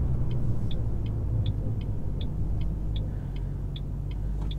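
A 2006 Mustang GT fitted with MSD Blaster coils and Champion 7989 spark plugs drives along with a steady low engine rumble and road noise from inside the cabin, alongside a regular, rapid ticking like a turn signal.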